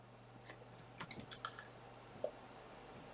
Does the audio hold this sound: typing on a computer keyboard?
yes